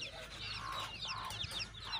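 A hen clucks softly on a poultry farm with high, thin chick peeps scattered over it, close and fairly quiet throughout.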